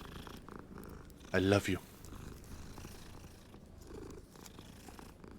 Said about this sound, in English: Another cat! I must pet every single cat we see.